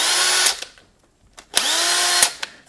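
Cordless impact driver powered by a rebuilt Craftsman 19.2V battery pack, two short bursts of whirring and hammering close up with a pause between them.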